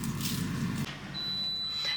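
An air fryer's single sustained high-pitched electronic beep sounds over faint background hum, starting after a brief rustle.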